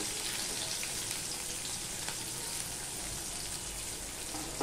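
Chopped onion and slit green chillies frying in hot oil with nigella seeds for a pomfret fish dish, giving a continuous, even sizzle and crackle close by, with no talking.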